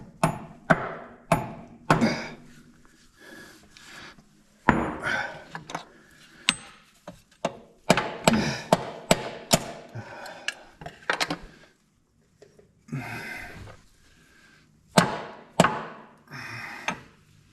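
Hammer blows during a G900 Amplitorq installation, landing as loud sharp strikes in irregular bursts of several quick hits with brief pauses between them.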